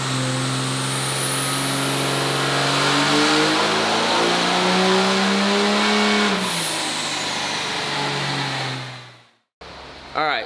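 Single-turbo 2006 pulling truck engine making 1168 horsepower, revving hard on a dyno pull with a rising turbo whistle and climbing roar, then dropping off and winding down to silence before a brief burst.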